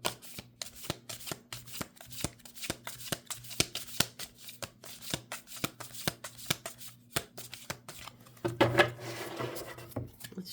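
Tarot cards, new and slippery, are riffled and shuffled over and over in quick, crisp bursts, close by, ending in a longer flurry of shuffling.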